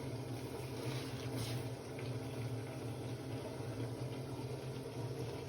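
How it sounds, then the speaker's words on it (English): A steady low pump hum with gurgling water running continuously underneath, even and unbroken throughout, fairly quiet and close: a Bosch HomeProfessional dryer pumping condenser water away. "It'll take about 20 seconds to pump away the water in the condenser."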